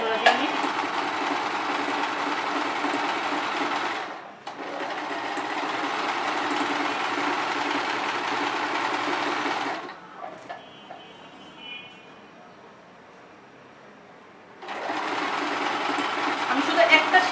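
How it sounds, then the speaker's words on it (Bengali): Sewing machine stitching a fabric seam for a girl's dress, running in two long steady bursts broken by a short pause and a quieter stretch of handling before the motor starts again; a voice speaks over it. "আমি এই জায়গাটা আমি আগে একটা সেলাই দিয়ে নিব"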